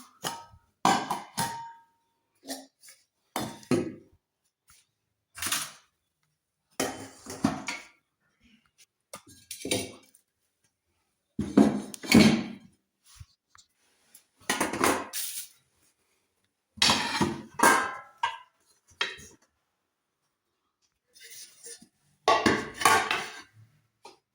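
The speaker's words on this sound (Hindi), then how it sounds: "अब इसमें मैं दोबारा बर्तन रखती हूँ।" Kitchen pots and utensils set back down one after another, a series of close, loud clanks and knocks in separate bursts with short pauses between them.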